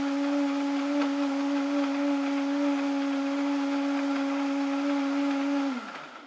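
A blender whirs steadily through a banana breakfast shake, a loud continuous motor hum with strong tonal whine that holds evenly for about six seconds before spinning down at the end.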